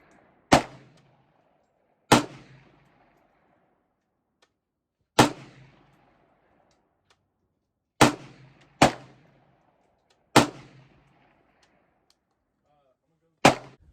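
Seven sharp, loud rifle shots from a CMMG Mark 47 Mutant AKS-13 chambered in 7.62x, fired singly at irregular intervals with brief decaying echo and quiet between.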